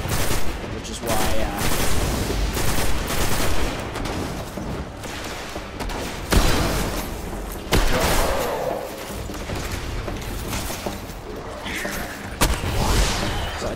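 Dense, continuous gunfire from the video game Destiny, played as a Titan on Xbox One, with rapid overlapping shots and heavy blasts filling the whole stretch at close, loud range.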